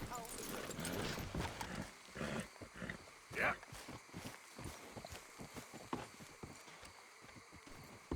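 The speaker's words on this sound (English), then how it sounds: "Get that horse out of here." Horse hooves clip-clop in an irregular run of distinct steps in the Western game Red Dead Redemption 2, moderately close, with voices and a brief vocal sound over them.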